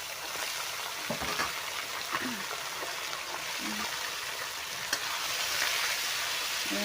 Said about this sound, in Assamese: এয়া ভালদৰে মই লৰাই লৈছোঁ চব্জিখিনি